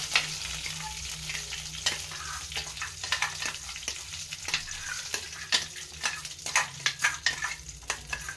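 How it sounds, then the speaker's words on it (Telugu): Ground chilli powder stirred into a hot pan, a steady sizzle under repeated quick spoon scrapes that grow busier toward the end, close by. "ముందుగా మిక్సీకి వేసి పెట్టుకున్న కారంని ఇప్పుడు కలుపుకుందాం."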